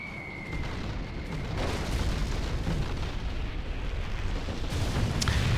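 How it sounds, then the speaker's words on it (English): Fuel air bomb and carpet bombing blasts in the strategy game Generals Zero Hour, a continuous rolling rumble of overlapping heavy explosions with sharper bursts near the end, dense and sustained. "Fuel air bomb and the carpet coming in."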